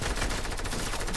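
A short, dense burst of rapid video game gunfire, loud and continuous, with no pauses between shots.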